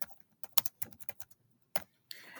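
Someone types on a computer keyboard, entering text into an image-editing program, with quick close bursts of key clicks separated by short pauses and no talking.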